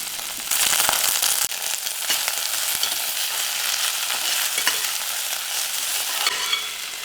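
Raw green peas sizzle and fry with onions in hot oil while being stirred, a steady close crackling hiss with soft scraping of the spoon throughout.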